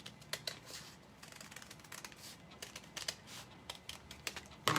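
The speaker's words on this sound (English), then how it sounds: "I can just take my scissors and I can just cut from dot to dot." Scissors snip along a dotted line through paper while making Christmas tree napkins, a quiet series of short crisp cuts in an irregular rhythm, close up with no speech.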